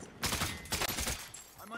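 Rapid bursts of gunfire from the Call of Duty Warzone video game on Rebirth Island ring out in several quick volleys, fairly loud and close, with a player's voice speaking around them.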